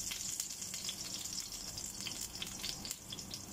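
Onion frying in a pan with garlic for pork pata mung bean stew, a steady close crackling sizzle with small spits and pops throughout, no one talking.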